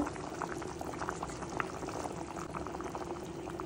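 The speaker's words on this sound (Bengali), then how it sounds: "সিমের বিচিটা মানে হয়ে গেছে, সিদ্ধ হয়ে গেছে। এখন আমি মাছগুলো অ্যাড করে দিব।" Fish pieces go into a pot of boiled bean seeds that bubbles vigorously, a close, steady burble of boiling liquid with small splashes and pouring sounds throughout.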